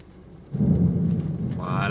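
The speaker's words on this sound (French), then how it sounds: "Écoutez le tonnerre." Thunder from a storm rolling over a village in Isan, Thailand, a deep rumble that swells in and holds steady, fairly close and loud, with no talking over it.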